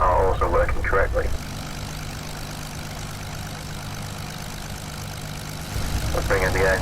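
A P-40C Tomahawk's piston engine idles steadily while taxiing to the hold, a low even drone that carries on alone through the middle and sits under talk at the start and end.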